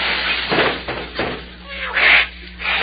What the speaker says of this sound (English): Clem, is there any way of stopping that cat out there on the fence?